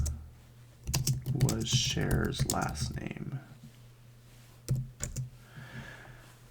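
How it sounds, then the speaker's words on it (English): A computer keyboard typed on in short clicky bursts, partly under a person talking and then alone near the end. "I always start typing on the wrong keyboard."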